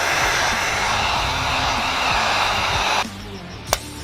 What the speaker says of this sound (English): Good old heat gun.